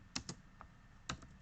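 A few quick clicks and taps on a computer keyboard while writing JavaScript code, sounding close and fairly quiet in two short bursts, with no talking.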